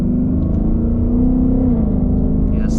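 A Ford Mustang GT in track mode accelerates hard, its engine holding a loud, steady close-up roar that rises in pitch, then drops briefly as if shifting, with no talk.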